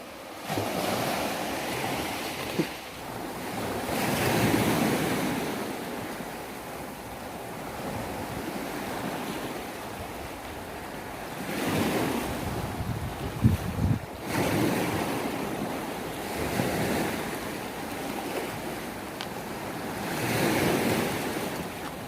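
Strong wind gusting along the seashore at Ko Si Chang island, buffeting the microphone in repeated loud surges, with waves washing in underneath between the gusts.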